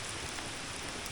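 Heavy rain falling outdoors while sheltering under a tree during a long fixed-gear bike ride: a dense, constant broadband roar of downpour, close and loud, with no voices.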